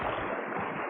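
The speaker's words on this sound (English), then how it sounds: "That's the sound of the sea." In a classic cartoon of Journey to the Center of the Earth, the sea makes a steady wash of surf and rushing water. It is a broad, continuous hiss, fairly faint, with no voices over it.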